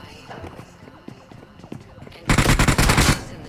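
Gunfire in the PUBG video game on the Erangel map: scattered single shots at first, then a loud, sustained burst of rapid automatic fire, close by, with some voice activity underneath.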